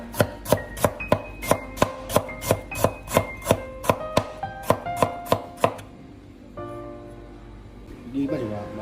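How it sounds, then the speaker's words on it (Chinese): Knife chopping peeled ginger into thin slices on a board, a quick, even run of about sixteen crisp close taps, then it stops while a voice speaks. "将生姜切成薄片。"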